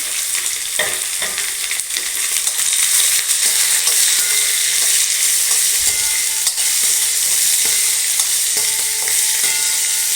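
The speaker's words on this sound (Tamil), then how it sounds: "வெங்காயம் போட்டுக்கலாம், வெள்ளைப்பூண்டு போட்டுக்கலாம், வதங்கட்டும்." Onion and garlic sautéing in oil with curry leaves for a Tamil-style vatha kuzhambu, a steady close sizzle with occasional stirring scrapes, loud and continuous with no voices.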